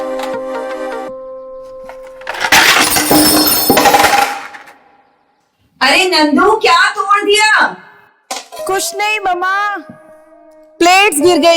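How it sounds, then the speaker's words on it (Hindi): In a Hindi drama scene, a stack of plates carried from a table falls and breaks in a loud, clattering crash lasting about two seconds, followed by people talking. "प्लेट्स गिर गई है"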